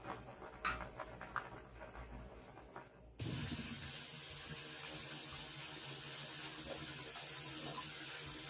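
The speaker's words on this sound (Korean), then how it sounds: "건진 국수는 찬물에 비벼가면서 씻어주세요" Cooked noodles are rinsed and rubbed by hand under running cold water in a sink. After some quieter handling sounds, a steady, full rush of tap water starts and keeps going without talk.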